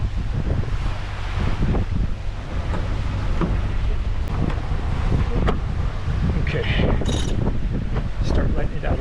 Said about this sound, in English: I'm putting the Genoa furler on the electric winch.